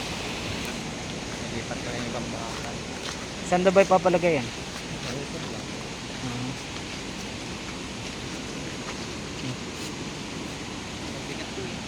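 Strong floodwater rushing through the Science Park River in Cabuyao, Laguna, a steady broadband roar that continues throughout while people talk over it, with a brief knocking burst near the middle.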